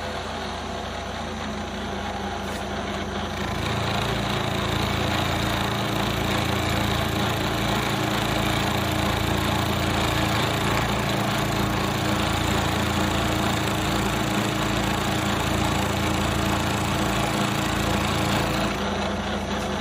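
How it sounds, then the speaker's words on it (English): Tool cutter grinder with a servo-driven work head grinding the flutes of a cutter: a steady motor whine with a rapid, even pulsing as each flute meets the wheel, loud and continuous. "I can hear all the flutes cutting,"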